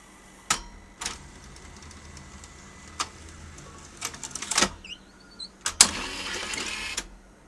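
A Sony U-matic VO-5800PS video recorder ejects a tape, giving a run of mechanical clunks, clicks and short motor whirs, close and fairly quiet, with a louder clatter near the end.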